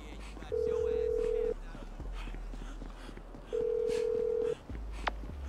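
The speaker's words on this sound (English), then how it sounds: "It's just ringing." A phone rings twice in Grand Theft Auto V, each long electronic ring tone lasting about a second with a pause between, over game background noise and a brief click.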